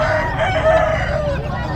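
A Brahma rooster crows loudly and close, a single drawn-out call with a strained, wavering tone.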